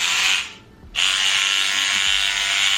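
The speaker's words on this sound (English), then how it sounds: "It's like an automatic toothbrush, but for cleaning purposes." A battery-operated electric cleaning brush, built like an automatic toothbrush, runs with a steady high-pitched buzzing whir that cuts out briefly near the start, then resumes strongly and continues at close range with no talk.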